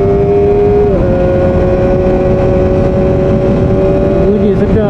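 A Kawasaki Ninja ZX-25R SE 250cc motorcycle engine holds a loud, high-pitched rev close to the mic, with the pitch dipping briefly and settling at a steady screaming whine.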